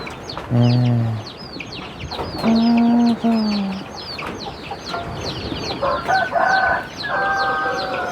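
Several chickens cluck in short bursts while a rooster crows in repeated calls, with small birds chirping throughout in an outdoor farmyard setting.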